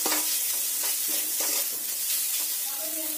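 Spices with turmeric, Kashmiri chili powder and salt being stir-fried in a pan for a banana-stem dish, soft sizzling with scraping spatula strokes in an irregular rhythm, close and fairly quiet.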